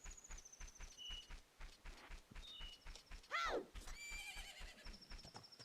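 A horse in a video game gives one clear descending whinny midway, over steady rhythmic clip-clop hoofbeats and faint game tones, all at low volume.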